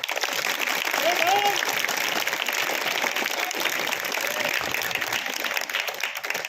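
A large seated audience at a public rally claps continuously, a dense, even wash of applause lasting several seconds, with faint voices beneath.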